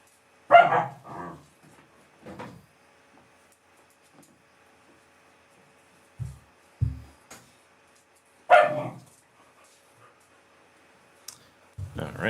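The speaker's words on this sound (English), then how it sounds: "Just what I need is the dogs playing in here." Puppies play indoors and give a few sharp, separated barks and yips close by, with long quiet gaps between them and some faint clicking.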